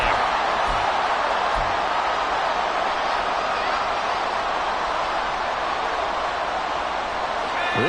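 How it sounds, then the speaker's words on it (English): Stadium crowd noise in a Madden NFL football video game, a steady, loud broadband roar filling the whole stretch without letup, with no commentary over it. "This crowd turning up the decibel level."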